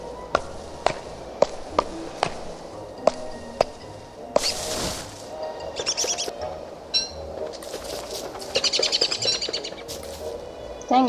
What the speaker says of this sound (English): Dang birds.